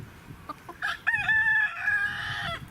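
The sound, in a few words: chickens clucking to each other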